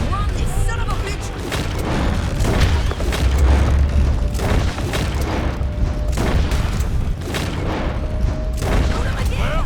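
Gunfire in a Red Dead Redemption 2 shootout, loud repeated gunshots and booms bursting at irregular intervals, with voices speaking among the shots.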